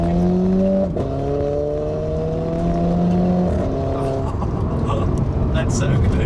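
A Renault Clio RS 220 Trophy hot hatch engine and exhaust revs loud from the back of the car, the pitch climbing through a gear, then a downshift drops it and it climbs again, with people talking over the noise.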